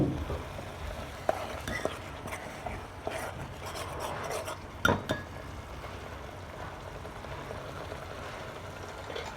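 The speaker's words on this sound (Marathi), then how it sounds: "आणि आता हेच मसाला आपण तळत आहोत।" Masala paste of onion and coriander fries in oil with no added water for a mutton dish, a soft scraping and bubbling sizzle punctuated by spatula rasps and a few clinks against the pot.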